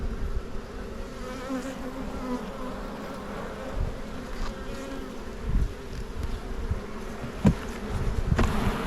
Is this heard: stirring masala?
no